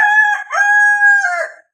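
A household rooster crows once, loud and close, a single drawn-out call that ends abruptly.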